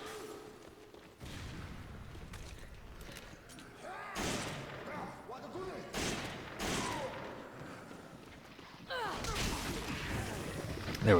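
Video game gunfire in Resident Evil 5 Mercenaries mode cracks out in repeated bursts and single shots, some with booming impacts, mixed with game effects and faint talking throughout.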